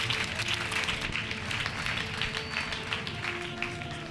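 A church congregation applauds and cheers for Jesus during a worship service, steady dense clapping across the whole stretch with a sustained murmur of voices beneath.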